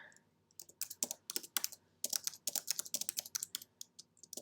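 Close, crisp keystrokes on a computer keyboard as a message is typed into a website form, coming in uneven bursts of rapid clicks with short pauses between them.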